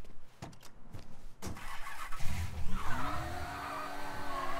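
A car in the video game Mafia 3 starts up after a few door and cabin thumps, then revs loudly and pulls away with a rising engine tone and a brief tire squeal.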